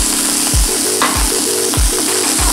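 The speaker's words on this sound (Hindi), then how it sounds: "इसे तेज आंच पे करीब एक मिनट के लिए पका लेंगे।" Capsicum, sweet corn and carrot stir-fry over high heat, a steady loud sizzle with rhythmic scraping strokes of a spatula about every half second, no voices.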